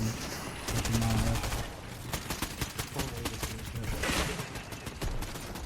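Rapid gunfire from a shooter video game, with bursts of automatic fire and overlapping shots that crackle loudly and steadily throughout, no talk over it.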